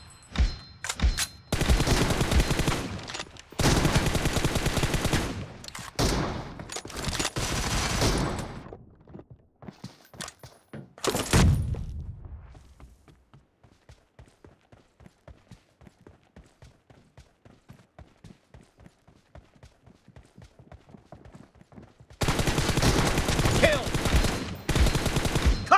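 Rapid automatic gunfire and shot bursts in a team-based shooter video game match, loud volleys separated by quieter stretches of fast rhythmic clicking, with no one talking.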